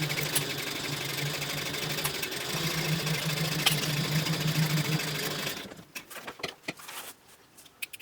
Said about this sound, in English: I'm going to sew across the top at 3/8 of an inch seam allowance